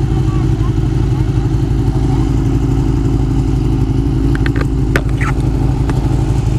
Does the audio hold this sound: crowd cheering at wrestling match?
no